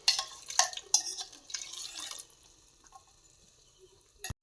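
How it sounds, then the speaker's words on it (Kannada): Water is poured into a pot of chicken sambar in a home kitchen, with a few splashing bursts at first that settle into quieter trickling and dripping, and no talking. "ಇದಕ್ಕೆ ನೀರು ಹಾಕ್ತಾ ಇದ್ದೀನಿ."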